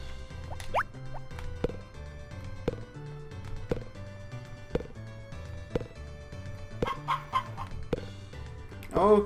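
Chickens cluck in the Harvest Moon: Back to Nature farming game. The short, repeated synthesized clucks ring out over looping plucked game music, and two brief gaps in the music break the sound.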